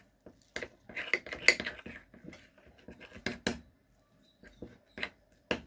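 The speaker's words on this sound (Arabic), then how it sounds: "ونفضل نقلب لحد ما نوصل للقوام اللي احنا عايزينه وما يبقاش فيه اي تكتلات" A utensil stirs a lemon, alum and rose water mixture in a bowl, producing close, irregular clinks and scrapes against the bowl with short pauses between strokes.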